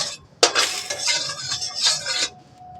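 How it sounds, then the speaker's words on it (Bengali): Cooked rice is fried in a pan with a little oil, heard as about two seconds of busy scraping and clattering from a utensil working against the pan, loud and close, with no talk. "আর এখানে ভাত ভেজে নেব।"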